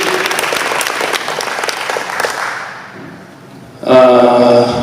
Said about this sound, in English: Another big round of applause is due to you.